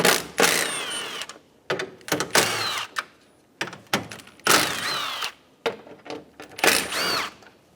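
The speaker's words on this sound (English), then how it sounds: "remove the 4 10mm bolts" Bursts of ratcheting and whirring from a 10mm socket tool backing out four bolts on a 2012-2020 Chevrolet Sonic 1.8L L4 radiator job, close and loud in several separate runs with short pauses between.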